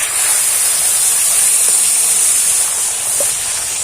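Milk poured into a hot pan of browned semolina mixture gives a loud, steady hiss of steam that holds throughout, close and unbroken.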